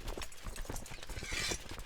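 Horse hooves clip-clop in the strategy game Crusader Kings II, a quick, faint, irregular patter of clopping hits over a soft background with a brief rushing swell near the end.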